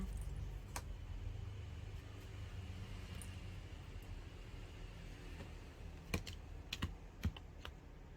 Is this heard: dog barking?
no